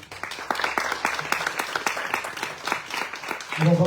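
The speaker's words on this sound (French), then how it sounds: "j'aimerais qu'on applaudisse nos 3 invités ensemble" A round-table audience at the Maison de l'Europe in Nantes applauds three guests, brisk clapping filling the room before a voice begins speaking at the end.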